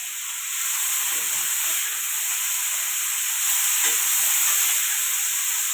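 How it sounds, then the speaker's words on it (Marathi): Vegetables seasoned with turmeric and salt sauté in a pan for a Maharashtrian misal pav, giving a steady close broadband sizzle with faint stirring scrapes throughout, no voices. "अशी परतून घ्यायची चार पाच मिनिटं"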